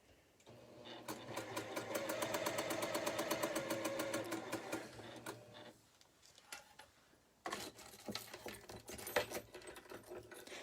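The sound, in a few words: sewing machine sewing a quilt block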